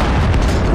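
A single loud, dense boom of a bomb exploding in Counter-Strike: Global Offensive, filling the short moment with broad low rumble and no speech.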